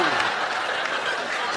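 A stand-up comedy audience breaks into a short burst of clapping, a dense crackle of many hands that holds steady for just over a second.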